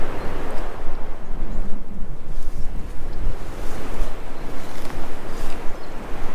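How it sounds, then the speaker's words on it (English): Maitland River in Ontario, steady broadband rush of flowing water mixed with gusting wind buffeting the microphone, continuous and fairly loud throughout, with no voices. "beautiful Maitland River"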